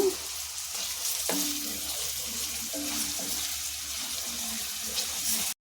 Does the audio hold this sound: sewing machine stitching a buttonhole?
no